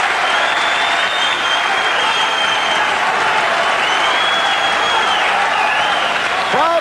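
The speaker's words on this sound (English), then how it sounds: "The hand clapping and the whistling." London boxing crowd at a lightweight bout between Edwin Rosario and Frankie Randall, loud sustained hand clapping with shrill whistles cutting through, a dense roaring arena wash with a commentator's voice underneath.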